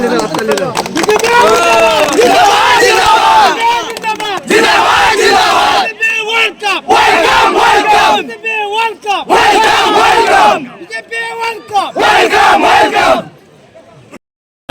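A large crowd cheers and shouts loudly at an election victory celebration for the BJP in Chamaguri, Assam, with continuous roaring chants and whoops that fade near the end.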